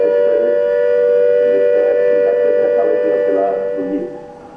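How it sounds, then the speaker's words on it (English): A Cold War civil defense siren sounds its all-clear signal, holding one steady, unwavering tone at high volume, then begins to fade toward the end. "the siren will sound a steady note like this."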